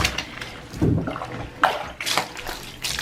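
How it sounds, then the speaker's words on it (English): A plunger pumps water through cloth diapers and inserts soaking in a tub, giving repeated sloshing and splashing surges about every half second, close and moderately loud, with no talk. "The plunger really makes sure that the water rushes right through the inserts and the diapers."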